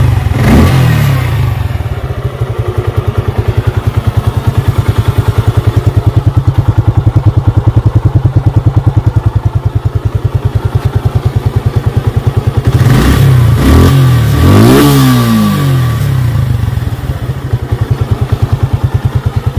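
A second-hand 2023 Suzuki Gixxer 155cc motorcycle idles loudly and close with a steady, fast thumping beat. Partway through it revs up sharply twice, then settles back to idle.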